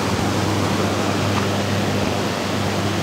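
Loud, steady roar of a rushing stream near the Asupini Ella waterfall in a forest, a continuous broadband wash of water close by with no voices.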